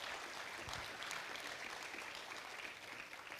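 Applause from the audience at a regional government address, a faint, distant wash of steady clapping with no talk over it.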